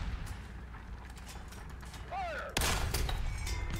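Artillery fire in a video game: a rising whistle of an incoming shell, then a loud, sudden blast over a constant rumbling engine bed.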